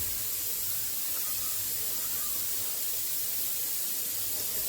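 Dishes being washed under running water at a home sink, a constant hissing spray of water that stays even and moderately loud throughout, with no speech.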